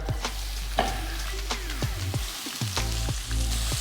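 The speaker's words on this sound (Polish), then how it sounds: "Oliwa ląduje na rozgrzanej patelni. Dajemy cebulkę." Onion hits hot olive oil in a heated pan with a loud, close sizzle and crackle, broken by several clattering utensil knocks as it is stirred.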